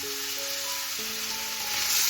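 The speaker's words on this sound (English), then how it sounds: "Once the oil heats up, let's drop in those onions. You're going to saute this until it turns translucent" Onions sautéing in hot oil over a medium flame, giving a steady, close sizzle with faint tonal background hum throughout.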